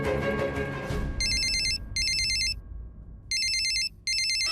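A phone rings with an incoming call in a domestic drama scene. The electronic ringtone plays in repeated loud bursts with short gaps, following a brief stretch of background music and low room noise.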